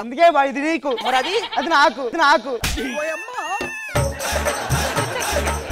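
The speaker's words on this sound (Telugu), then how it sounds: "బయట ఏంటి మేక సౌండ్ వస్తుంది?" A goat bleats outside in quick wavering cries, several close calls in a row, before people start talking over a busier background.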